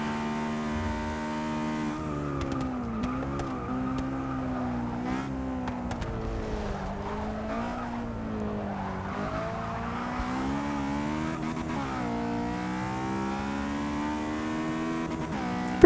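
Honda S2000 racing in Forza 6, Class C, its engine note steady and loud throughout with continual rising and falling revs as it shifts through gears, alongside faint tire squeal.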